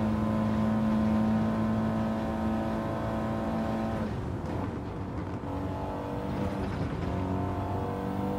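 Race car engine in Gran Turismo 7 holding a steady high drone, then shifting pitch as it accelerates and brakes through corners, loud and continuous with no talk over it.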